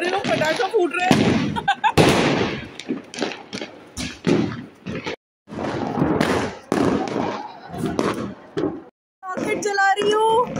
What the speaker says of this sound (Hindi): रॉकेट चला रही हूँ।